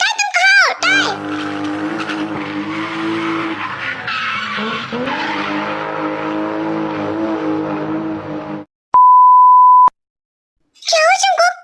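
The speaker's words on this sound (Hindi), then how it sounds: "तुम्हारी गाड़ी की ऐसी आवाज क्यों आ रही है?" Car engine revving with tyres skidding and squealing in a long sustained whine before a crash, followed by a sharp steady beep tone, a brief silence, then a voice speaking.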